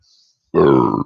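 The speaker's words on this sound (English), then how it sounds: "I don't mean to belch" A single loud, throaty belch lasting about half a second, rumbling and close, preceded by a brief faint hiss.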